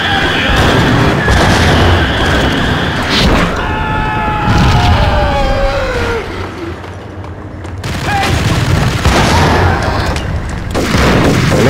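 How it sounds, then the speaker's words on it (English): Continuous gunfire and booming explosions in the Max Payne video game on PS4, loud dense bursts of shots and blasts with game effects sweeping through, running the whole way with a brief dip in the middle. "Keep shooting."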